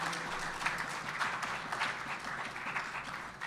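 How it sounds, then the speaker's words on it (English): Congregation at a Sunday morning kirtan service applauds a newly married couple, steady dense clapping filling the room for several seconds with a few brighter swells and no talk over it. "A round of applause for them."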